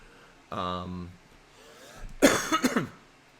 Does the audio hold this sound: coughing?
yes